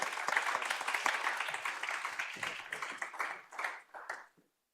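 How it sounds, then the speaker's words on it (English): Audience applause at a partnership information day and brokerage event, steady dense clapping that holds for about four seconds, then fades in a few last bursts before stopping. "It'd be great if we could show them a round of applause."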